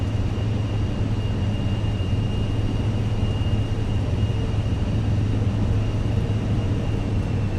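A steady, loud engine drone with a faint high whine runs unbroken as an airliner taxis on the ground in Microsoft Flight Simulator 2024, with no voices.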